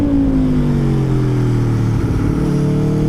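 A 2024 Aprilia Tuono V4 Factory with an Akrapovic exhaust and stock headers holds a loud, steady engine drone whose pitch slides down slightly and then climbs back up, continuous throughout with no talk.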